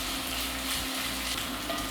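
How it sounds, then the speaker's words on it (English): Onion frying in a pan until golden brown for a quick chicken curry, a dense, steady sizzle that carries on evenly throughout without any talk. "We're just going to get this onion golden brown."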